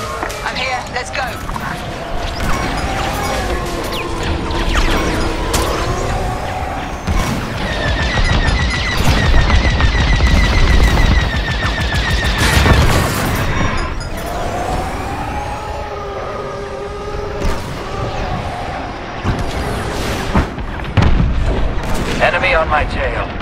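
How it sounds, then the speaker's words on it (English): Blaster fire and space combat in the Star Wars: Squadrons video game, loud and continuous, with rapid repeated shots, engine whines and sweeping tonal effects, layered with game dialogue. "Taking heavy fire."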